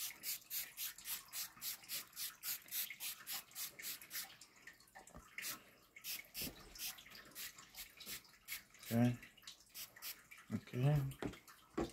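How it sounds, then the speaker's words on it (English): Hair being wet with water from a spray bottle during an ASMR haircut, a rapid series of close, soft spritzing bursts in a steady rhythm, followed by quieter handling and a few short spoken words. "Let's just wet your hair some."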